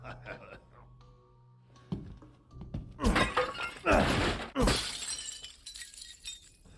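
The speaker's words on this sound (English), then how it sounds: "Smash away with your trusty knife." A knife smashes objects in Resident Evil Village, a run of loud close crashes and shattering glass-like breaks following some quieter game sounds and thuds.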